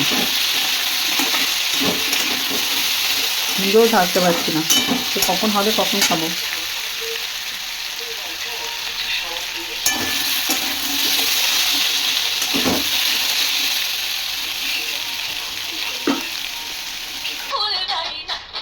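Potatoes fry in a pan with a constant close sizzle and hiss, while someone talks briefly over it and a few stirring clatters break through near the end.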